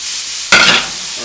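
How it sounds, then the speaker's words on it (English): Bacon strips hit a hot skillet and burst into sudden loud sizzling that crackles on for a moment, then settles to a softer fry. "Now we're going to go ahead and start adding the bacon in. Hear that sizzle? It's a good sound."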